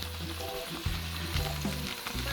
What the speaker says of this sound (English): add some pimento seed right now. So add the pimento seed, throw it in the oil there.